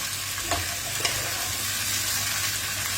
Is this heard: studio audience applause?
no